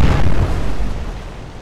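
A naval cannon fires in the warship game Atlantic Fleet, giving one loud, deep explosive boom that starts at once and then rumbles away over about a second.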